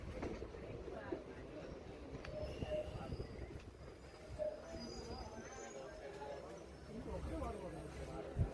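A crowded 58506 Gunupur fast passenger train rumbles steadily along with rattling carriages and faint wheel squeals, its low roar filling the cabin while voices murmur underneath.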